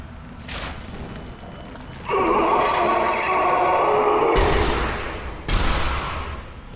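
Sniper rifle fire in Sniper Elite: Nazi Zombie Army comes as a faint early shot and then a long loud burst of gunfire and impact noise. A sharp crack follows near the end.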